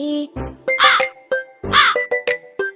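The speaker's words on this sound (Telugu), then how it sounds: "నల్లని కాకి వచ్చింది" A cartoon crow caws repeatedly in a kids' rhyme, loud and close, with sung melody notes between the harsh caws.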